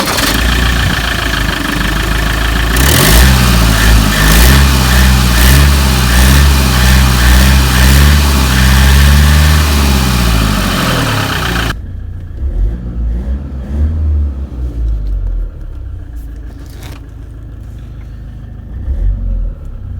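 An Iveco Daily campervan with 216,000 miles runs loud and close, its engine revving hard for several seconds before dropping abruptly to a quieter, rougher idle.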